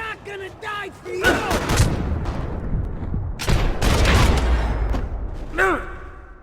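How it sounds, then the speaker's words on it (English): Gunfire from the video game Max Payne 3, with repeated loud gunshot bursts and sustained volleys spread across the clip, mixed with shouting voices between the shots. "Gunfire over Hoboken."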